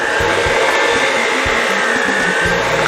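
An electric hand mixer runs on low speed, blending powder for a no-bake pineapple cherry tart with a loud, steady whirring drone and occasional low knocks of the beaters against the bowl.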